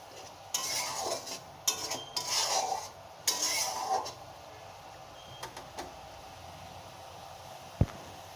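Garlic prawn masala being stirred and fried in a pan over high heat, with repeated scraping and rasping strokes of a spatula against the metal, loud bursts in clusters, then quieter stirring and a sharp click near the end.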